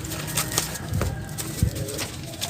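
A Black Widow pigeon coos nearby in a loft, giving several soft repeated coos with a brief flutter of wings, heard alone without talk.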